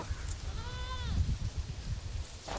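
A male goat kid gives a single clear, wavering bleat, close and fairly loud, over low rumbling background noise on a farm.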